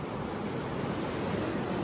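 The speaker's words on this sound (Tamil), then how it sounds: "கடல் நல்லா முன்னாடி வந்திருக்கு." Sea waves surging high onto a beach, a continuous dense roar of surf with wind noise on the microphone, steady and fairly loud with no voices.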